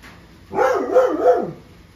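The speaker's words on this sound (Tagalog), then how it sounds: "yung ating ingay ng aso" A dog lets out a quick burst of two or three close, loud barks that run together, then falls silent.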